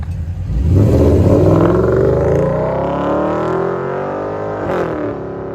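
A 2017 Porsche Cayenne S with a 4.8L V8 and a Vibrant resonator exhaust with quad tips revs loudly up close, its deep rumble climbing to a sustained roar, easing off, then briefly blipping again.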